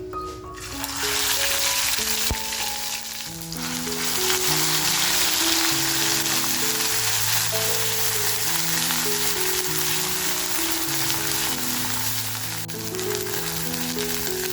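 A crushed garlic, green chili and ginger kharda fries in a pan for a spicy vajri masala. A steady, dense sizzle runs throughout beneath background music.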